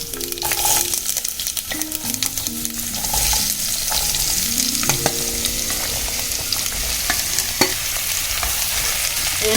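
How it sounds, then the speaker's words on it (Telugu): Beetroot pieces stir-fried in a pan on the stove, giving a steady sizzle with repeated scraping and clinking of a spatula against the pan throughout. "ఇప్పుడు ఇందులో బీట్రూట్ వేసుకుందాం."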